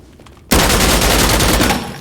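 Heavy machine gun fire in Insurgency Sandstorm bursts in suddenly and stays loud and dense for well over a second, a rapid continuous rattle of shots that only thins slightly at the end.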